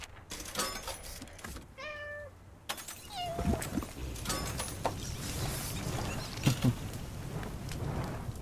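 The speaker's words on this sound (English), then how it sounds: "The sound that kitty makes" A cartoon cat meows in the video game Little Inferno, several short, clear mews amid soft clicks and crackling game sounds, fairly close and moderately quiet.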